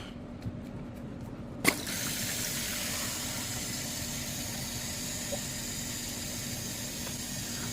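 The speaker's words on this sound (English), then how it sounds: "that water that's coming from out of the wall is going up through this fill valve right here" A toilet tank refilling through its fill valve after the supply line is turned back on: a brief clunk, then a continuous hissing rush of water that runs steadily and close by.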